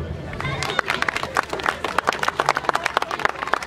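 Dense, continuous applause from an audience at an African cultural festival, many hands clapping in a close, lively patter with crowd murmur underneath throughout.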